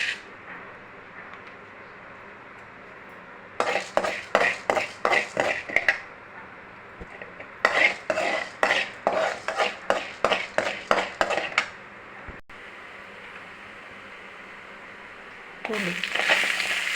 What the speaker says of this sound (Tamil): இப்போ உளுந்து போட்டுக்கலாம்.